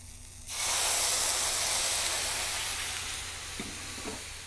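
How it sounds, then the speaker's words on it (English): Mushrooms sautéing in olive oil with brandy in a pan, starting with a sudden loud burst of sizzling and steamy hiss that stays strong and steady, with a couple of faint clicks near the end. "we're going to begin to saute them in a little bit of olive oil"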